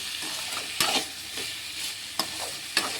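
Ivy gourd (kovakkai) sautéing with rock salt in a pan for an Andhra-style pachadi, a steady close sizzle broken by a few sharp scraping stirs.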